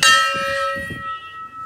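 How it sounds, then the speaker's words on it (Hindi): One of the small offering bells hung along the steps of the Golu Devta temple is struck once, giving a bright metallic clang that rings and slowly fades, with faint low thumps underneath. "पूरे ही रास्ते में ये छोटी छोटी घंटियाँ बंधी हुई हैं।"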